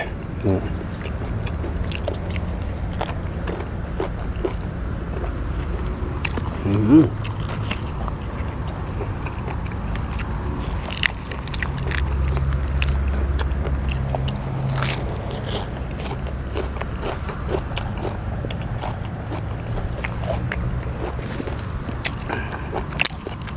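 Crispy pork rinds dipped in spicy chili sauce are bitten and chewed close up, with scattered crunchy cracks and crackles over a steady low background hum; a voice speaks at times.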